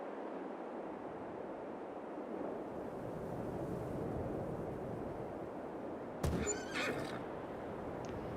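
A horse neighs in Farming Simulator 22, a sudden whinny bursting out near the end over a steady, windy outdoor ambience, with no speech.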